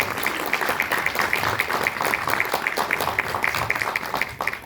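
Audience clapping at a business open meeting and celebration in Jaipur, a steady patter of many hands at moderate level, alone without speech.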